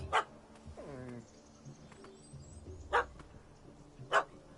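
In the video game The Witcher 3: Wild Hunt, a dog gives three sharp, separate barks at a cat up a tree, with a soft whine between them, set against quiet outdoor ambience.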